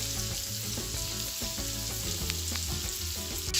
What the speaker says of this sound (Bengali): এখন আমি রসুন এবং পেঁয়াজ সব কিছু একসাথে ভেজে নিচ্ছি।